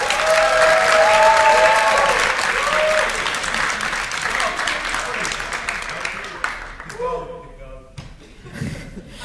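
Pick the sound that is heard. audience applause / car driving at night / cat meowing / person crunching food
audience applause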